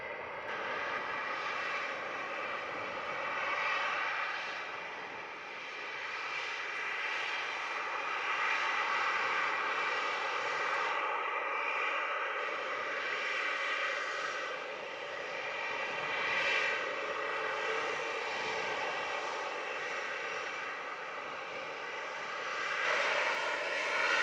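A Flair Airlines jet landing at Montego Bay gives a steady, fairly distant engine roar and whine that swells and fades slightly over about twenty-four seconds, with no voices.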